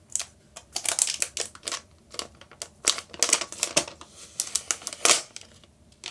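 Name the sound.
peeling protective plastic film off Google Home Hub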